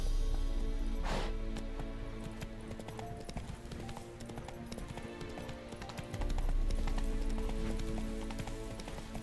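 Horse hooves clip-clopping in a steady galloping rhythm in the video game Witcher 3, moderately loud against a soft ambient background, with no talking.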